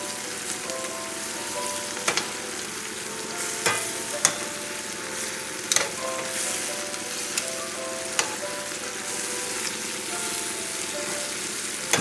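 Cajun/Creole-style BBQ shrimps sizzle steadily in a pan while being turned, a continuous crackling fry broken by occasional sharp clicks and scrapes of the utensil, with no talking.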